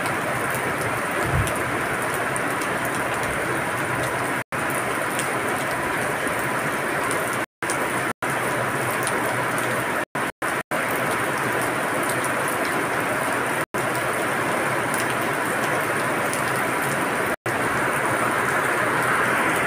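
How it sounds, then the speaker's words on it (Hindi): Heavy rain pours steadily outdoors in a historical village, a dense, continuous hiss of drops on surfaces with no break, heard alone with no voices. "बहुत ही तेज़ बारिश स्टार्ट हो गई है।"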